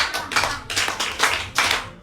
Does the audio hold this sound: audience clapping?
yes